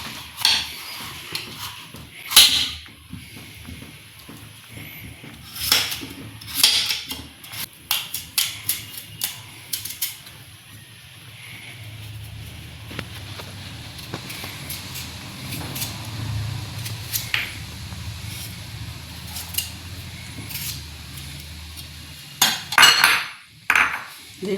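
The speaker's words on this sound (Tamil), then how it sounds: "இது இவ்வளோ நீட்டத்தில் அரிஞ்சு போடுவோம்." Knife cutting papaya into long pieces, heard as repeated close taps and clicks on a board in irregular bursts over a low hum, with no talk.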